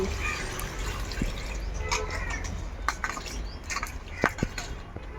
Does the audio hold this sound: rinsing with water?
yes